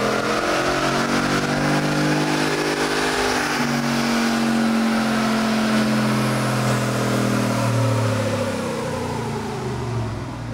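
Freshly tuned Hemi V8 in a Ram 1500 pickup revving hard on a chassis dyno, a loud continuous roar climbing steadily in pitch through a full pull, with no talk.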